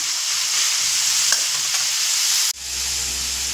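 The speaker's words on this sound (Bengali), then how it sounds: "দেখুন সবজি তো আমার ভাজা হচ্ছে" Vegetables for a sago pilaf fry in a pan with a steady, loud, close sizzle, which briefly shifts near the end as the pan is stirred.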